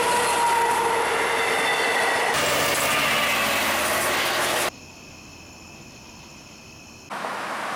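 A train at a New York station rumbles loudly and steadily, then drops to a quieter hum with thin, high, squealing tones and a brief swell near the end. No voices are heard.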